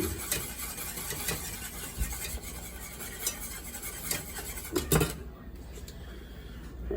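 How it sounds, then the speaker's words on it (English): A utensil scrapes and stirs in a pot of boiling pesto, with irregular soft rubbing strokes and occasional clinks, over a low background hiss. "Stir it up a little bit."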